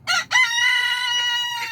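Backyard chickens: a short cluck followed by a loud, drawn-out rooster crow, close and clear with little else around it.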